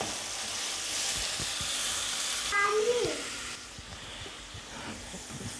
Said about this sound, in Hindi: और अब मैंने इसके अंदर डालने हैं टमाटर। और इनको अच्छी तरीके से मिक्स कर लेना है।